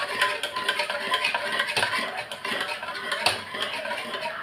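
A metal utensil churns cooked lentils for sambar in a pot, giving repeated clinking scrapes and knocks in an uneven rhythm, close and fairly loud.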